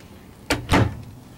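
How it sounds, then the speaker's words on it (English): Pull-out drawers in the kitchen of a 2001 Damon Ultrasport 3680 38-ft diesel pusher RV slide open in two quick, close knocks about a quarter second apart, with no talking. "Some nice pull-out drawers."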